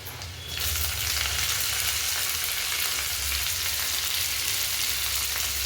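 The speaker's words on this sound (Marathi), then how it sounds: "तेल तापलेलं आहे, आपण आता याच्यात थोडंसं आलं, थोडासा लसूण, हिरवी मिरची बारीक चिरलेली जी आहे ती" Ginger, garlic and finely chopped green chili drop into hot oil, bursting into a loud, continuous sizzle that stays steady and close after a brief quieter start.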